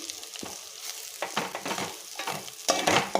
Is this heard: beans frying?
yes